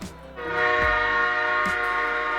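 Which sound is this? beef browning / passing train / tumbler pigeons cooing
passing train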